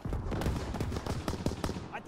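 Rapid gunfire from the video game Call of Duty: WWII, a fast string of sharp, punchy shots in quick bursts, loud and close, with brief gaps between volleys.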